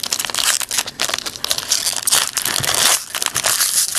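Foil wrapper of a 2007 Topps Co-Signers or Chrome football card pack being torn open, with continuous loud crinkling and ripping close up, steady for several seconds with no talk.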